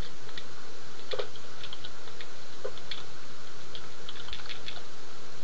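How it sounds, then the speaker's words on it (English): Someone types on a computer keyboard during co-op play of Donkey Kong Country 3: scattered light clicks and taps under a constant wash of background noise. "Who are you typing to?"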